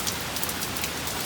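Hurricane Beryl rain patters densely and steadily on a surface nearby, a brief continuous wash of drops with no voices.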